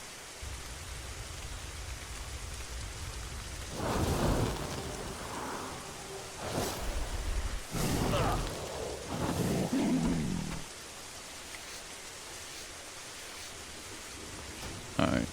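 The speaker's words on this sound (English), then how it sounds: "Alright, this rain..." Rain and thunder ambience in the game Turtle WoW, a steady wash of rainfall with deep rumbling swells, while someone talks over it.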